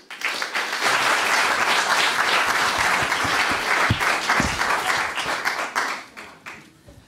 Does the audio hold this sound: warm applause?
yes